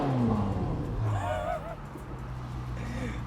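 A loud Ferrari 458 Widebody with an ARMYTRIX exhaust revs nearby, its pitch sweeping up and down in short surges over a steady low rumble.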